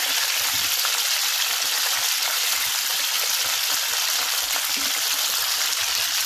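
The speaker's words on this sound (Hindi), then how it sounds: "और तेल में हमको ये फूल गोभी को फ्राई कर लेना है" Cauliflower florets frying in hot oil in a pan over a low gas flame, giving a steady, continuous sizzle with fine crackling throughout and no voices.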